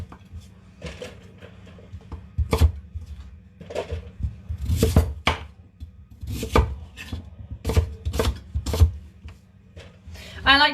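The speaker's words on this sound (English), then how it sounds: "So I'm having one of these and I'm just chopping it down the middle." A knife chops through a potato or kumara on a cutting board, several sharp, close thuds landing at an uneven pace with brief pauses between cuts, alone without talk.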